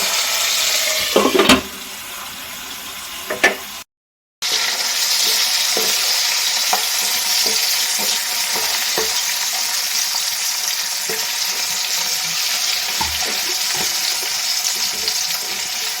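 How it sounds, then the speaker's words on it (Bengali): Pumpkin pieces fry in a pan with a steady, bright sizzle, broken by scraping stirs of a spatula near the start, a brief dropout, then continuous crackling hiss with occasional soft knocks. "কুমড়োটা একবার নাড়াচাড়া করে দিলাম, আরো কিছুক্ষণ ভেজে নেব"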